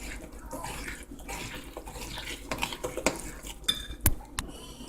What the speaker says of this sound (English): I mix my wet and my dry ingredients together.